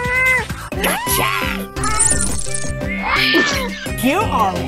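Cartoonish meowing and yowling cat calls mixed with lively music and voices, loud and busy throughout.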